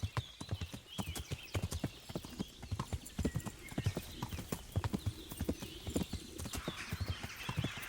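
Horse hooves clip-clop in a steady, brisk rhythm in the video game Kingdom Come: Deliverance, many crisp hits close by, with a faint whinny and ambient background.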